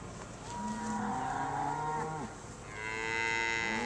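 Braford cows moo in several long, low, drawn-out calls, one after another and fairly close, with one higher-pitched bellow near the end and no talk.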